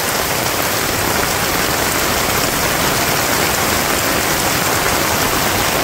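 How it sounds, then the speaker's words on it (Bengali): Heavy rain falls on a Bangladeshi village, a loud, constant roar of drops hitting ground and roofs close by, uniform and without pause, no talking. "অনেক সুন্দর বৃষ্টি।"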